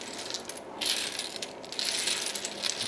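Vintage buttons clinking and rattling inside an Old Spice Early American Shulton trinket box, a close, bright jangle of small hard pieces shifting in bursts, with no talk.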